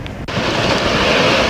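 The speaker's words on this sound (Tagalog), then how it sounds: "Sa Timonan, mabagsik ang mga along humampas sa seawall" Powerful storm waves surge and crash against a seawall in Timonan during a typhoon, a dense, continuous roar of surf and wind, loud and close throughout.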